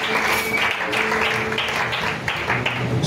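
Church congregation cheering and applauding during a French-language worship service, sustained dense clapping mixed with shouts and whoops, steady and loud from start to finish.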